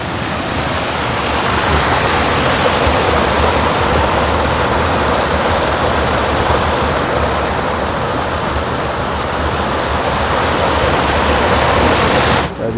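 A swollen village stream in Rajapur, Konkan, runs high during heavy rain, a dense, loud, continuous rush of water roaring steadily throughout with no break.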